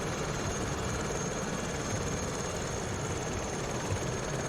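An SA315B Lama helicopter in Microsoft Flight Simulator 2020 drones on in cruise, a constant dense engine and rotor roar with no breaks.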